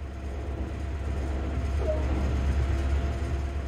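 A GP38-2 diesel locomotive in Train Sim World 2020 on the Peninsula Corridor between San Francisco and San Jose, a steady low engine rumble and rolling noise that holds even and continuous as the train gets under way.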